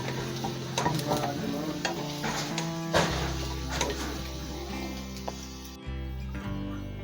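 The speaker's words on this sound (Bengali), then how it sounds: "ভেজে নিচ্ছি একটু।" Chopped spices sizzle and crackle in a pan of white cooking oil while being stirred, with irregular spits and pops over a steady low hum, close by.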